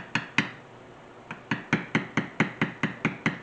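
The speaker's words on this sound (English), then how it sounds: "the harder you tap that, the deeper that bevel is going to go into that leather" A mallet taps a metal beveler into leather again and again: two sharp knocks, a pause, then a steady run of about ten evenly spaced, close, crisp strikes.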